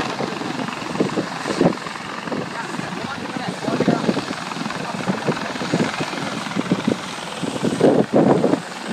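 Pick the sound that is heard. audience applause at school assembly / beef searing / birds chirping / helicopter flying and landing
helicopter flying and landing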